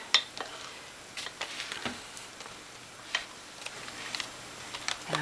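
A spoon scoops thick, hot-process herbal soap from a crock into a mold, making quiet, scattered clicks and soft scrapes at an uneven pace. No one talks.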